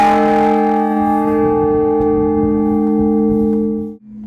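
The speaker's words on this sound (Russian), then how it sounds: "Его звон при хорошей погоде слышно на несколько километров." A large church bell at the Pokrovsky Cathedral in Barnaul rings once, loud and close, its deep rich tone humming and slowly fading for several seconds before cutting off.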